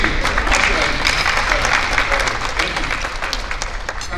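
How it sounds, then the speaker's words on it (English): Banquet guests at a Hall of Fame and medal ceremony applaud past inductees, a loud, sustained wash of crowd clapping in a large room with some voices mixed in. "Let us give another round of applause to all the past Hall of Fame inductees"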